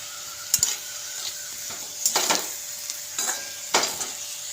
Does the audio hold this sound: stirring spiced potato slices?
yes